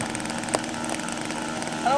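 A small radio-controlled Gremlin model airplane flies at an outdoor contest, its engine a continuous droning buzz at moderate distance, rising briefly in pitch near the end.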